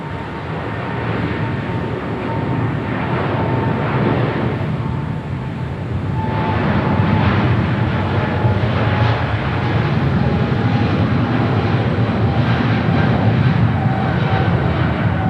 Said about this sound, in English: DHL Coletta Air. It's a 777 freighter heading to Sydney, Australia. Now rolling down 25 right.